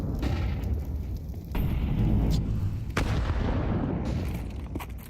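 A grenade blast and gunfire in a Counter-Strike esports match at BLAST Premier Fall Showdown 2024, with heavy rumbling booms, a sharp crack midway and a dense, continuous low roar of battle.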